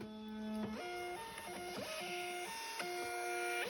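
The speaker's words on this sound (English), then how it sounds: "it spits out the label you need" A label printer feeds out a shipping label with a run of stepped, whirring motor tones that shift in pitch, close up and steady for a few seconds with no talking.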